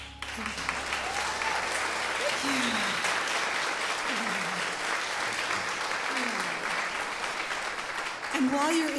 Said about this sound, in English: while you're in the mood to applaud, would you please give a big hand for Janice?